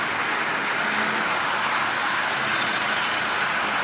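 A Lionel 244 model train, running after boiler-hole repairs and a new pilot, pulls 16 cars at 60% power, giving a steady, loud broadband rumble and whir that holds evenly throughout with no voices.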